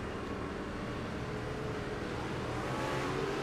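Gen 4 race car engine heard from inside the car, a loud continuous droning roar with rising revs and wheel spin, steady and close throughout with no talking.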